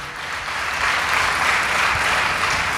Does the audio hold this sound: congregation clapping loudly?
yes